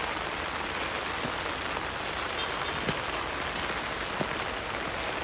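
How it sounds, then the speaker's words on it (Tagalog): Rain pelting an umbrella during a typhoon in Cebu, a close, constant hiss of dense drops with a few louder individual taps standing out. "Umulan nga."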